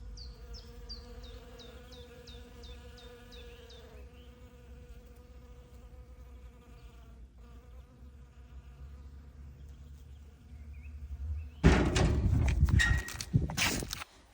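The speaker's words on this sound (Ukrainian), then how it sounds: "І все в бджолах." Steady insect buzzing hums through the clip from bees working a white-flowering tree in a village yard in spring, joined by a brief high chirping early on and a louder rustling burst near the end.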